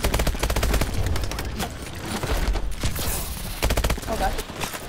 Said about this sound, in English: Oh, the burst fire.